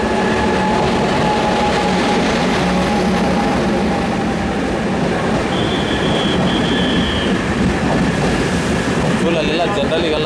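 The Mandovi Express, hauled by a WAP-7 electric locomotive, rolls into a busy Konkan Railway station with a loud, steady rumble of wheels and clattering wagons, a brief high squeal partway through, and a voice speaking over it.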